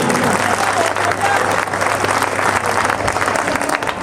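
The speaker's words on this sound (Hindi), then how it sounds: "जोरदार ताली" A crowd applauds at an open-air Ramlila performance of the Bali Vadh episode in Aminagar Sarai, a steady, dense wash of clapping that holds loud and unbroken throughout, with voices mixed in.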